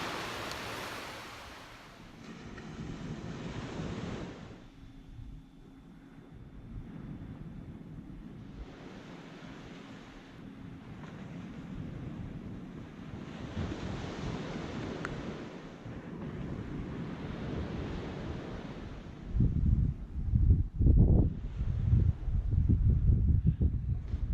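Waves wash steadily onto a beach in repeated surges, with wind buffeting the microphone and a few heavier, closer rushes of water near the end.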